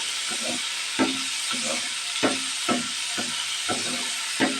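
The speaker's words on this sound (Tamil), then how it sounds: "எண்ணெயிலே நல்லா பாவக்காவை எண்ணெயிலே கொஞ்சம் பரட்டி எடுக்கும்போது" Bitter gourd pieces frying in hot oil give a steady close sizzle, broken by several sharp stirring scrapes and clinks of a utensil against the pan, with no voices.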